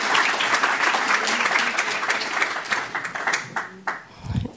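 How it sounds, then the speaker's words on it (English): An awards ceremony audience gives the panelists a big round of applause, a dense sustained wash of clapping that thins and tapers into a few scattered claps at the end. "And a big round of applause."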